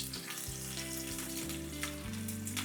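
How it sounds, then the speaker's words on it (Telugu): Finely chopped garlic sizzles in hot oil in a pan, a steady close crackle and hiss running without pause, with a low tonal hum beneath it. "కొంచెం ఆయిల్ వేసి, ఆయిల్ వేడెక్కిన తర్వాత నేను సన్నగా తరిగి పెట్టుకున్న వెల్లుల్లి వేసాను"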